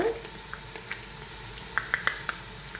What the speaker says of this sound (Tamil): வெங்காயம் வந்து நல்லா வதங்கணும்.